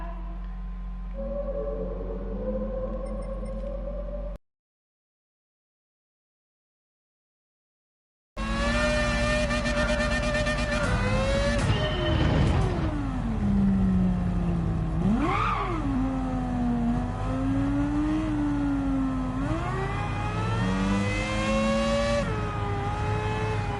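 An S-Space engine revving loud and close, with rising and falling pitch sweeps over a sustained roar, starting after a few seconds of silence and holding for the rest of the stretch with no talk.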